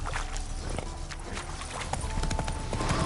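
Horse hooves clip-clopping at a steady walking rhythm in The Witcher 3 video game, close and loud over a busy game background, with a brief whinny-like tone.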